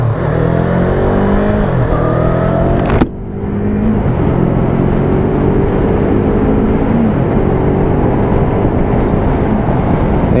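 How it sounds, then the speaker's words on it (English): Yamaha MT-03 300cc motorcycle with a six-speed gearbox, accelerating hard through the gears: a loud, close engine whine climbs in pitch, cuts briefly at a gear change, then keeps rising under heavy wind noise. "6-speed box gets you straight up to 60 mile an hour"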